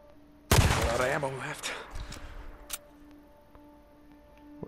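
A sniper rifle fires in the video game Days Gone: one sharp loud shot followed by a rolling echo and a faint later crack, over a low steady hum, with someone talking.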